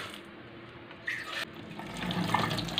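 Water splashes and pours steadily into a pot, starting faintly and growing fuller and louder toward the end.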